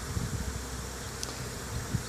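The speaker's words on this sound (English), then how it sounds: "Getting a little more active with the bees" Honeybees buzzing during a beehive inspection as frames are handled and bees are shaken into a split; a faint, steady hum with a few soft low thumps, no talking.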